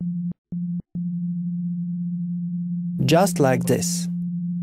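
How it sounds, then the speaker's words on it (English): A pure sine test tone hums steadily, with two brief dropouts early on. Near the end someone speaks briefly over the tone. "let's take a look at a sine wave on spectrum analyzer."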